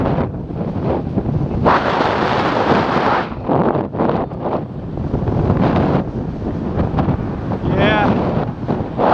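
Strong gusts buffet the microphone outdoors, a loud rumbling roar that swells and drops in waves throughout, with a voice talking faintly underneath.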